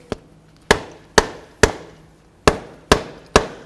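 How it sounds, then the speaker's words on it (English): Rubber mallet blows on a 2006–2012 Ford Fusion front driver's side axle being driven into the transmission: seven sharp, close, loud knocks in an irregular rhythm, a pause midway, with no talking. "now I'm just going to grab myself a rubber mallet and I'll give this a couple loving bonks to drive it in."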